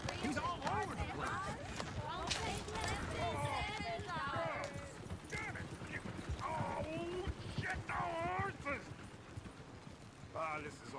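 Horse hooves clip-clop steadily alongside a rolling coach in the Red Dead Redemption 2 video game, the hoofbeats running continuously under frequent overlapping speech and an occasional whinny.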